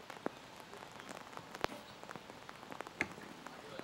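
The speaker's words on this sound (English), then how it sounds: "Rain seemingly picking up and coming down just a tad harder than it was a few moments ago now" Steady rain patters down during an outdoor women's recurve archery quarterfinal, a soft continuous hiss of drops on surfaces with a few sharper taps and knocks standing out, faint and diffuse throughout.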